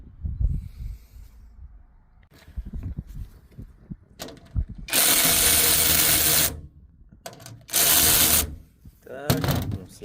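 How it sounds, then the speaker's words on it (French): Screws being driven into solar panel mounting sheets, with bursts of loud buzzing power-driver whir between softer handling clicks and rattles, close by. "Vous mettez que des vis sur les 4 trous qui sont ici."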